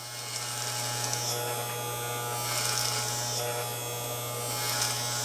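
Electric hair clippers buzz steadily and close up while trimming a beard against the grain, a constant motor hum with the cutting texture swelling and fading.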